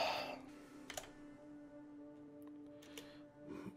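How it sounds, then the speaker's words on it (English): Faint, sparse keyboard typing from a player entering a character name in the video game Cold Shell, a few soft clicks spread over a few seconds under quiet game ambience. "You scare me when you start typing in words."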